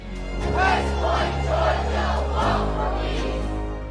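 A large crowd in Alabama or Georgia roars and cheers for Buddhist monks on a long peace walk, a loud, sustained wash of many voices swelling and holding.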